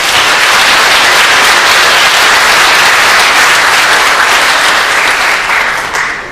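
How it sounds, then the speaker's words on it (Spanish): Loud, sustained audience applause at an academic law convention, a dense wash of clapping from a large room that holds steady for several seconds and begins to thin out at the very end. "Démosle un fuerte aplauso nuevamente al doctor"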